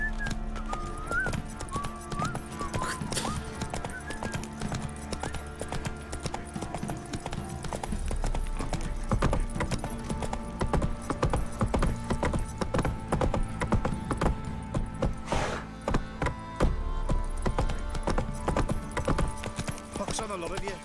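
Hooves clip-clop in a continuous galloping rhythm as Roach, the horse in the video game The Witcher 3, runs. The hoofbeats sit under game music and ambience, with occasional voices talking over them.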